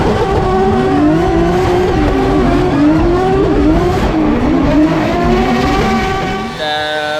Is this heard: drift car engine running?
yes